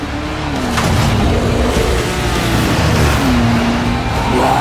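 A car engine in the Dying Light: The Following video game revs and accelerates in a loud, sustained roar with rising and falling pitch sweeps, set against dense trailer sound.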